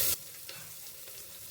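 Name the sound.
cardamom and cloves frying in oil in a pressure cooker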